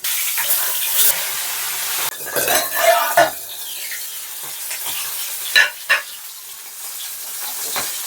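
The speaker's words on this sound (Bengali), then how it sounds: "মাছটা আমি খুব সুন্দর করে গুঁড়ো করে দেবো এখানে তেলের মধ্যে খুব সুন্দর করে গুঁড়ো করে একদম ভেজে নেবো তেলে" Fish head frying in mustard oil with a utensil scraping and stirring against the pan, intermittent clattering strokes and bursts of sizzle over a quieter frying hiss, close and without speech.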